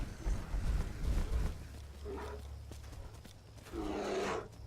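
Deep growling roars from two bears in the video game Skyrim, one early and a second louder roar near the end, with low rumbling in between.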